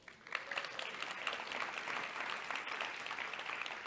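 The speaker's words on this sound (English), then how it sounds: "please give yourselves a round of applause." An audience at the opening ceremony of a women's forum gives a round of applause, steady and crowd-wide clapping that stays fairly even throughout and sounds somewhat distant and faint.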